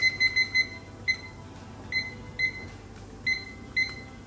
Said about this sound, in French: Ah oui, le minuteur.